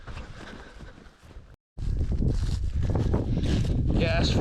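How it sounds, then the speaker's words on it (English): Strong wind gusting across an open stubble field in rural Scotland, buffeting the microphone with loud rumbling roars, briefly cutting out before surging back even stronger. "It's really windy because there's nothing in this area to break the wind"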